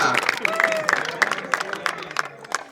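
Crowd applause at a cricket tournament prize presentation, a dense patter of clapping heard close and steady, with a voice speaking over it.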